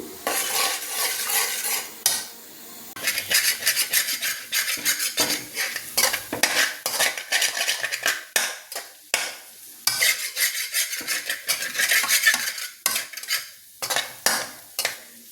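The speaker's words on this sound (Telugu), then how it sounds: "రెండు నిమిషాలకు ఒకసారి కలిపెడతా ఉండాలి మంచిగా వేయించాలి బాగా" Egg fried rice is stirred and fried in a pan. A spatula scrapes and clatters in quick, irregular strokes over a soft sizzle, up close with short pauses and no speech.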